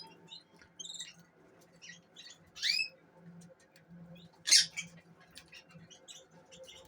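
Budgerigars and their chicks in a bird room give faint scattered chirps and squeaks, with two brighter squawks standing out over a quiet, low background hum.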